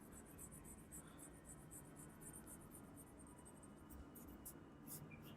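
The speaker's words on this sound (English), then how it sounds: "let's just quickly sketch in the details of Wolverine or Logan's" A pencil sketching a comic character's face on paper, a steady close scratching and rubbing of graphite strokes that runs unbroken throughout, with quick repeated strokes and no voices.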